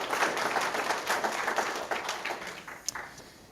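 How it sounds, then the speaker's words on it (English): Audience applause at a community gathering, a dense wash of many hands clapping at steady strength before thinning out toward the end, with no voices over it. "we need an applause for that one"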